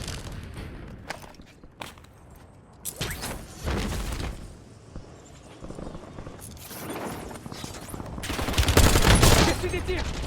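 Gunfire in the video game Warzone comes as scattered bursts and rapid volleys mixed with footsteps, some near and sharp, others softer, building to a dense loud barrage near the end.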